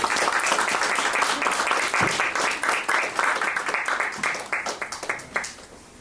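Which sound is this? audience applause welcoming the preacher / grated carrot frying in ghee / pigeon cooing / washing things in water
audience applause welcoming the preacher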